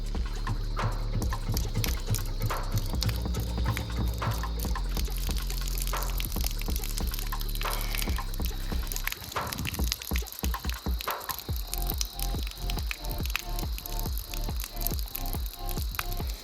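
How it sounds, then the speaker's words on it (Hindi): Water is poured over an animal in Rajasthan, making a continuous gushing, splashing pour that steadies into a sustained flow partway through, with some clattering alongside. "अब मैं कोशिश करता हूँ इसके ऊपर थोड़ा पानी डालने की"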